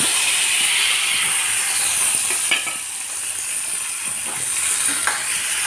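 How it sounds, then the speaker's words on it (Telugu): Tomatoes sizzle in a pan with garlic and green chilli, a loud, steady close frying hiss with a few faint clinks and stirring sounds. "టమాటాలు కూడా కాస్త వేగాలండి."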